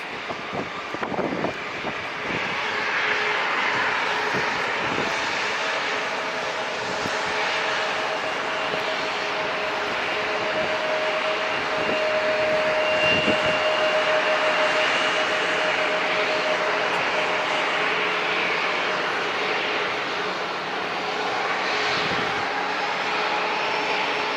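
Embraer E175 airliner lining up at San Diego International Airport, its engines producing a steady broadband roar with a faint whine that holds for the whole stretch, heard from a distance through light wind noise.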